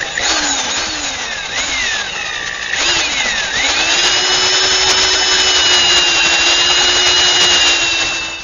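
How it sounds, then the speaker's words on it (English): A power drill whines steadily for several seconds boring a 5/8 inch hole, its pitch sliding down and settling as the bit bites, loud and close. "I'm going to drill a 5/8 hole from each side"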